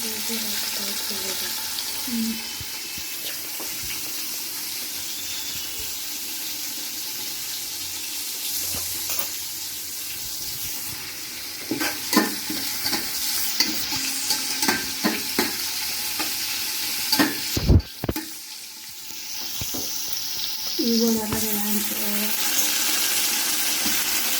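Ingredients for biryani frying and being stirred in a pan, a continuous close sizzle with repeated scraping strokes and clanks of the spoon against the pan throughout.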